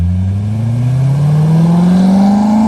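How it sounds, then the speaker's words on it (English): A Chevrolet Corvette C6 Grand Sport engine revs up, its deep exhaust note climbing steadily in pitch over a few seconds, loud and close with no talking. "in spite of how good this car sounds"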